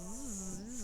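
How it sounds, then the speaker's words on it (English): A dense swarm of bees rendered as a steady, close buzzing drone that holds throughout without a break. "Cassius, you hear a swarm of bees behind you."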